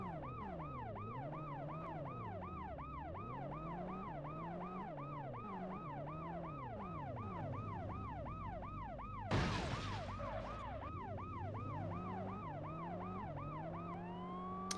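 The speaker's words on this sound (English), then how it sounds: "So the siren is something you can manually switch on and off" A wailing electronic police-style siren on a video game car cycles rapidly up and down without pause, with a brief burst of noise partway through and a steady engine drone underneath.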